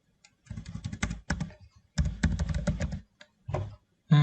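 Fast, close clicking of keys on a computer keyboard in irregular bursts with short pauses, as someone types out HTML and CSS for a college website form.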